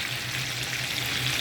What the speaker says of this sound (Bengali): ডিম আর আলু একসাথে ভেজে নিচ্ছি।